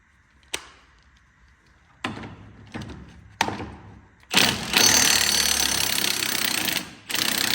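An impact wrench working a rusty, stuck bolt on a cabover truck: a few short separate bursts, then a loud sustained rattling hammer for about three seconds, stopping briefly before starting again.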